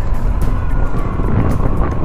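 A motorcycle ridden over a rough road, its engine droning steadily and close with bumpy, fluttering wind noise on the microphone and no talking.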